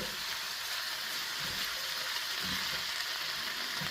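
Smoked pork carnitas crisp in a pan with a dense, even hiss of frying fat that holds steady and close throughout, with no voices.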